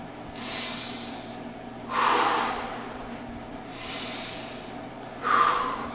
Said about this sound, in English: Take a deep breath, Ackley.